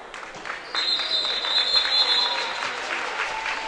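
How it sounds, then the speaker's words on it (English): Crowd of Simeon basketball fans applauding a player checking out of a prep game, a steady mid-level wash of clapping in a gym with a faint whistle-like tone and some voices mixed in. "the applause from the Simeon faithful."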